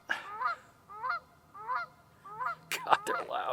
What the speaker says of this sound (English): God, they're loud. There goes the neighborhood when all the geese show up